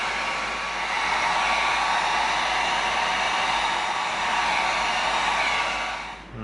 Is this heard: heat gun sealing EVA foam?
yes